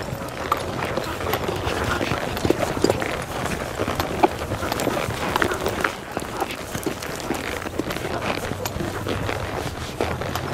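Horse hooves at a team penning event beat in a steady, uneven rhythm on dirt, moderately near, amid a busy arena background with faint talk.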